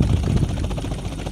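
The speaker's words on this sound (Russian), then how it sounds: "Вертолет." A helicopter gives a continuous, loud, low rotor and engine rumble that holds steady throughout, with no talk over it.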